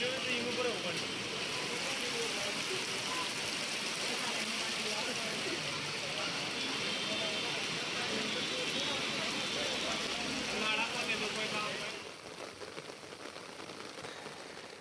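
Heavy monsoon rain pours down, a dense continuous hiss of falling water that stays steady for most of the stretch and eases slightly near the end, with no talk.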